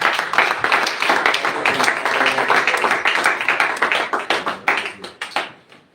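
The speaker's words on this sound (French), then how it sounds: "On acclame pour la parole de Dieu." A church congregation at a Friday night prayer vigil breaks into loud, brisk rhythmic clapping that carries on steadily, then fades out in a few last claps at the end.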